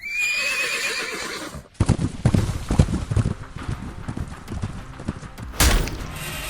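A horse neighs loudly, then hooves pound in a fast galloping clip-clop with heavy thuds, ending in a sudden loud impact; no talking.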